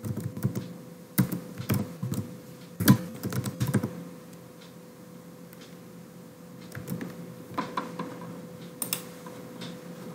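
Bursts of rapid typing on a computer keyboard while code is written, close and clear, with short pauses between flurries of key taps.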